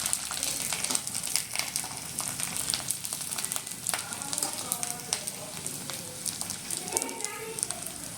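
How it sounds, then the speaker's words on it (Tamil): Sun-dried rice vathal crackers fry in hot oil, making a continuous dense crackling sizzle, close and steady, with brief bubbling pops. "நல்லா காஞ்சால் தான் வந்து அப்பளம் வத்தல் நல்லா பொரியும். இந்த மாதிரி போடுங்க. எப்படி பொரியுது பாருங்கள்."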